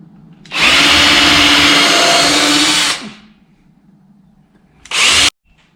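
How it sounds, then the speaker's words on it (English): A power drill with a 1/8 inch bit bores pilot holes into scrap wood, one loud sustained run of about two and a half seconds followed by a short burst, alone with no voices. "and I'm just going to drill some pallet holes."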